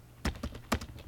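A few sharp key taps on a computer keyboard, about three distinct strokes in a short burst, close and moderately loud with no talking.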